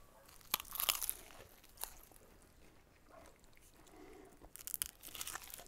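Close crunching bites into a crispy smash burger taco, with a loud crunch near the start, another around two seconds and a burst of crunchy chewing toward the end, separated by quieter mouth sounds.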